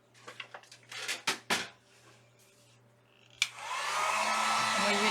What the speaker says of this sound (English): Now I'm going to go ahead and dry this with my heat gun because I don't want to mess it up.